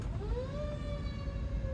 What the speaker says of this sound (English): I see a fire truck behind me and it's lit up for some reason.